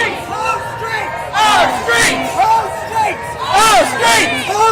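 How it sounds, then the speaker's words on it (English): Street protest crowd at a "No Kings" rally in Austin, with a mass of voices chanting in loud rhythmic swells that rise and fall across the clip, a steady babble of the crowd underneath. "You can hear chants that have just started."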